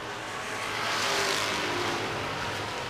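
Race cars roaring around an oval track in a late-laps chase, a dense, steady wall of engine noise with a rising swell as cars sweep past, no voices.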